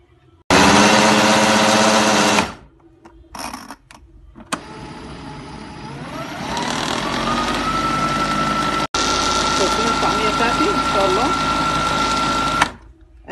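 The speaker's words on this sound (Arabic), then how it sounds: "هنا زي ما انتم شايفين كده هنبدأ نضرب بقى في الكبة بتاعتنا" A food processor blends a lentil falafel mixture with a loud, steady motor whir that starts and stops in bursts and then runs for several seconds. A voice speaks briefly between the runs.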